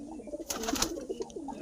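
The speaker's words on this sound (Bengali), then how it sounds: "দেখতে পাচ্ছ এই পায়রাগুলো বিক্রি আছে" Pigeons kept for sale coo softly in a brief low murmur, with faint rustling around them and no talking.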